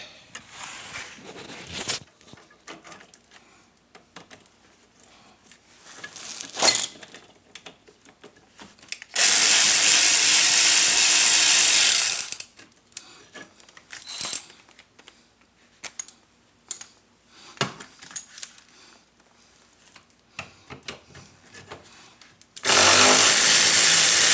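A power tool spins out 13 millimeter brake hose bolts on a 2006 Dodge Caravan, two loud sustained bursts amid scattered clicks and tool clatter.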